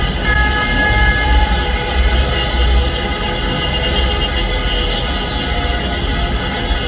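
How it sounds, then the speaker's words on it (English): Sustained honking of car horns fills the street at night after a game in Panama City, Panama, steady and loud, layered over a constant drone of distant traffic with no talking. "I started hearing honking right after the game ended."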